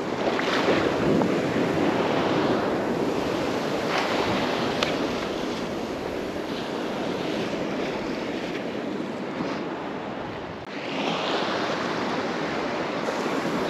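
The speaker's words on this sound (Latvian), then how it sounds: "Šitādos viļņos man te nošļāks rektīgi." Sea waves break and wash continuously, with steady wind buffeting the microphone, recorded while wading in the sea to fish; the roar stays loud and dense throughout, with a brief dip and surge near the end.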